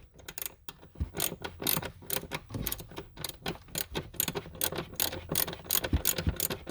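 A hand ratchet cranks a long bolt home while a car footwell module is installed, giving rapid close clicking in uneven bursts, quiet and continuous throughout.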